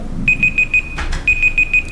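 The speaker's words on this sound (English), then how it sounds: "Never had the beep before." Electronic beeping at a school board meeting: two bursts of four rapid, high, evenly spaced beeps, loud and close, separated by a brief rustle.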